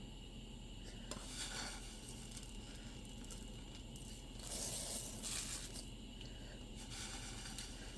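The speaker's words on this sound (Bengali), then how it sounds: "এখন সেমাইটা দিয়ে দেবো।" Long dry vermicelli dropped into a cooking pot with bay leaves, giving a steady scraping, clattering rustle of sticks against metal with a brief louder rush midway, close and continuous with no talk.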